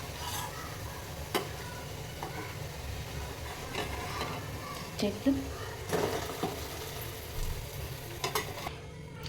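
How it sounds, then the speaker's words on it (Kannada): A dosa-like batter snack frying in oil, a soft continuous sizzle with scattered ticks and spatula taps, a voice speaking intermittently over the cooking. "ಫ್ರೈ ಆಗೈತೆ, ಇನ್ನೊಂದು ಸ್ವಲ್ಪ ಬೇಯಲಿ."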